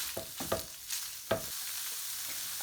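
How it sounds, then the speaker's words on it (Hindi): Shredded chicken stir-fries in a little oil for chicken crepes, with a steady sizzle broken by several sharp scrapes and clatters of a spatula against the pan, close and with no talking. "इसको 1-2 मिनट के लिए हमने थोड़ा तेल में ऐसे स्टर फ्राई करना है"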